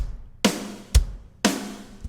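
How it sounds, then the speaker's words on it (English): Programmed kick and snare alternate in a steady rock beat, four hits in all, each a sharp, loud drum strike with a short decay, alone and without talk. "So kick, snare, we're gonna go kick, snare, and they're gonna sound like this."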